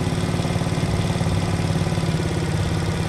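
A Cerro C70 70cc motorcycle engine idles during carburetor adjustment, a steady close putter with a fast even pulse throughout and no voice over it.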